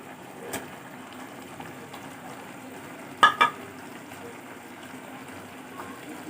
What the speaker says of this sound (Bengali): চিকেন মোটামুটি সেদ্ধ হয়ে গেছে, এর মধ্যে দিয়ে দেবো আমি বেরেস্তাটা।